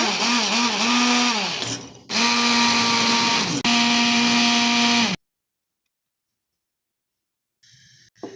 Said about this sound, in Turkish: Hemen şöyle bir Çekelim arkadaşlar blenderda çorbamızı.